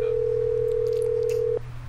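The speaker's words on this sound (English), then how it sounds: "The phone is ringing." A steady electronic phone tone holds at one pitch for about a second and a half, then cuts off. It sounds like a call ringing through, with faint background noise behind it.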